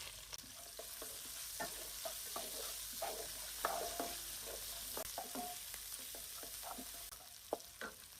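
Onion and garlic going into hot oil with panch phoron in a pan, a faint steady sizzle broken by soft scrapes and taps of a stirring spoon, quiet and close with no talk.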